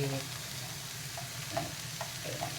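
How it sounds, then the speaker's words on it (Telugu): Grated carrot fries and is stirred in a pan for a ragi-wheat uttapam, giving a steady close sizzle with a few scraping stirs. "మరీ ఎక్కువ ఎక్కువ వేపించొద్దండి. మళ్ళీ క్యారెట్ వేసుకుంటున్నాను."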